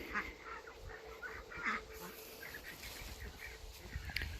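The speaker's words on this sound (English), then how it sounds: "ducks like to flock together in a group, they've heard the other ducks around" Domestic farm ducks quack repeatedly at a moderate distance, short scattered calls over an outdoor farmyard background with a little wind noise, and no talking.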